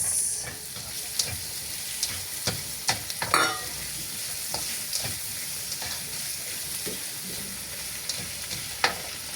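Green beans with eggplant, dried shrimp and tomato stir-frying in a pan, a steady sizzling hiss broken by repeated scraping stirs and occasional clinks of the utensil.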